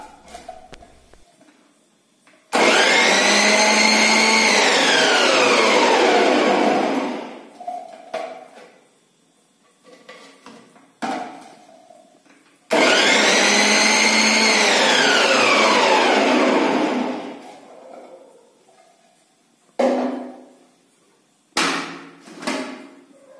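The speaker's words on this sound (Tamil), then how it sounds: "இன்னொரு பீஸ் முட்டைக்கோஸை லிட்டு வழியாக செலுத்தி ஸ்லைஸ் பண்ணி எடுத்துக்கலாம்." A Preethi Zodiac mixer grinder slicing cabbage whirs loudly in two long bursts, each winding up to a steady high whine and then spinning down, with softer clatter and clunks between runs.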